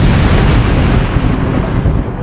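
A powerful explosion as two colliding energy techniques burst against each other, a loud dense roar that fills the whole clip and slowly trails off, with no voices.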